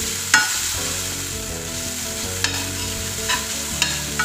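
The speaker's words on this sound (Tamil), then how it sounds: "இந்த நெய்யிலேயே இந்த அவல் நல்லா வறுக்கணும்." Poha flattened rice roasting in ghee, with cashews, for a halwa, stirred steadily so a spoon scrapes and taps the pan over a constant close sizzle, several sharper clicks punctuating it.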